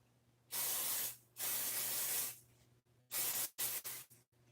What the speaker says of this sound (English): I take my pixie spray, and I spray it